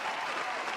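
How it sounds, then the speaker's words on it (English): A short burst of canned applause, with many hands clapping loudly and evenly throughout the moment. "I'm hitting a round of applause for Schultz."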